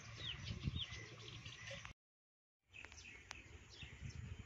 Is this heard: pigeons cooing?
yes